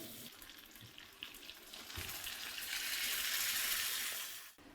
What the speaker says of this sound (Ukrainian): Так, додаю трішечки водички.